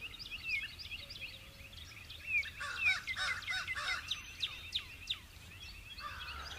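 Many birds call and chirp around an outdoor poncho hooch survival shelter, a busy overlapping chorus of short whistles and tweets, some close and loud, others faint in the background, with no talk.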